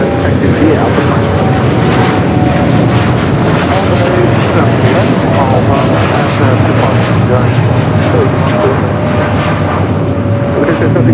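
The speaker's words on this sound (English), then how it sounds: "heavy 747 rolling out" A heavy Boeing 747 rolls out on a runway at LAX with a loud, steady, roaring jet engine rumble that stays constant throughout. Voices talk over the noise.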